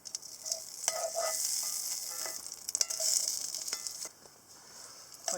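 Bacon grease sizzles and spits in a pan on a Redcamp wood stove, a steady close crackle with scattered sharp pops, no voices.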